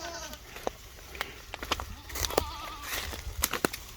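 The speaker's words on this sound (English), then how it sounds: "I got these wild little fainting goats." Fainting goats bleat repeatedly on a brush-clearing property, several wavering calls overlapping amid scattered clattering hooves and movement, close by and moderately loud.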